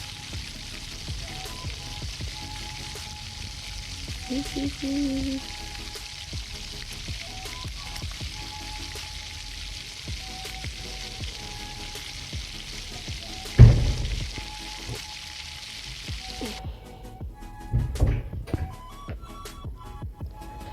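Onion and capsicum sauté in a pan, giving a continuous soft sizzle with faint stirring scrapes. A sharp knock sounds midway, and the sizzle drops away near the end, leaving only occasional clatter.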